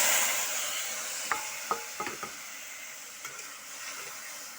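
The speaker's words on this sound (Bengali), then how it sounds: "শুকনো লঙ্কা সর্ষে ফোড়ন দিয়ে রান্না করছি এই আমটা এখন দিয়ে দেবো" Mustard seeds and dried chili frying in hot oil in a pan for mango chutney give a steady sizzle, broken by a few sharp pops and clinks of stirring.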